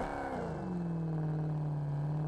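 A car engine in Fortnite revs and then settles into a steady, sustained drone that holds loud and close, with no voices over it.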